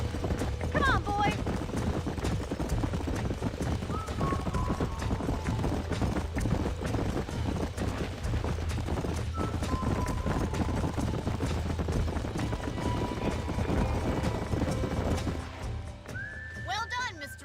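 Horses in the video game Red Dead Redemption, with steady hoof clip-clop running through a dense outdoor game soundscape and a couple of whinnies, faint layered ambience throughout.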